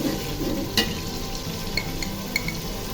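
Cloves and cardamom frying in hot oil with garlic and ginger for a village-style desi chicken curry, a steady close sizzle with a few light clinks of stirring.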